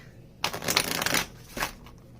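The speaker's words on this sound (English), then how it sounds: "I find the shuffle so satisfying" Tarot cards being shuffled by hand, a close riffling flutter that builds quickly, runs for about a second, then returns as a shorter burst before fading.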